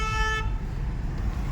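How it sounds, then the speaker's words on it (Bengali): A car horn sounds once on a main road, a short loud toot cut off abruptly, with traffic rumble continuing beneath. "এই যে গাড়ি হর্ন দিছে"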